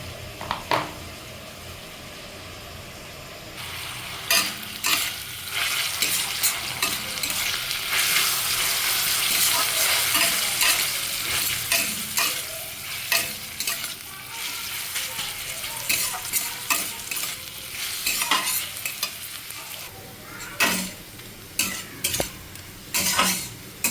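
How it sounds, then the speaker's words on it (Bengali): Carrots fry in oil in a pan for fried rice, with a constant sizzle broken by repeated scraping and clinking strokes of a utensil stirring them, close and fairly loud. "গাজরগুলো ভাজা আসছে, এবার ডিমগুলোকে দিয়ে দিচ্ছি।"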